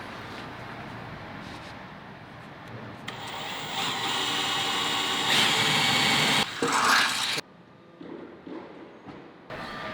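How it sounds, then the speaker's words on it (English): A drill bores a pilot hole for a hole saw through the bed of a C10 truck during a fuel tank install, its whine rising for a few seconds, then cutting out and restarting in shorter bursts. "we're going to go ahead and drill the pilot hole for the hole saw"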